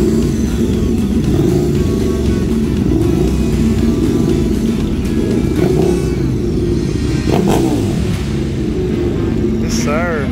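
Motorcycles, a Kawasaki Ninja H2 and a Ducati V4 SP2, rumble and rev at a meet, a loud, continuous engine drone close by with rising throttle blips toward the end.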